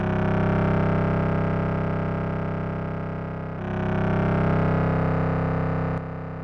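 A sustained, thick synth tone from a Voltage Modular patch run through a three-voice chorus, wide and shimmering with slow swirling movement, steady and loud, shifting once midway, no voice over it.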